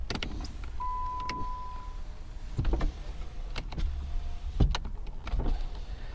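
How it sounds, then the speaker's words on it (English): Power windows whirring on a flood-damaged car, several motor runs rising and stopping in a row, close by, with faint clicks and thumps between them. "looks like we got working windows"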